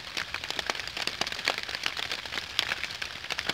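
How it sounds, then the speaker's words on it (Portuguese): Rain falls beside a river during a fishing trip, a dense patter of drops on nearby surfaces, fairly quiet and steady, with no talking. "Chuva, chuva."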